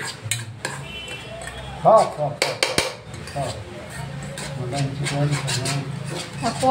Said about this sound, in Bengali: এই যে দেখুন, সুজি রান্না করে নিচ্ছি